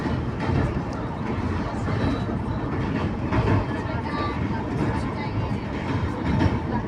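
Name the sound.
Howrah Mail train crossing Mahanadi river rail bridge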